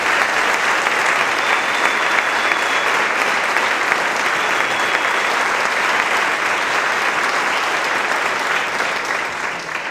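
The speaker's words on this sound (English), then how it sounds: "Let's give them a round of applause." An audience at a school concert applauds for the full stretch, dense, loud and steady clapping from a large crowd that only begins to thin slightly at the very end.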